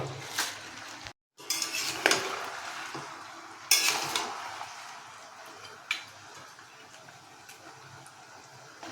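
Dried chillies, bay leaves, whole garam masala and cut green chillies tossed into a hot pan, with metallic clinks and scrapes of stirring over a soft sizzle, and a brief gap of silence near the start.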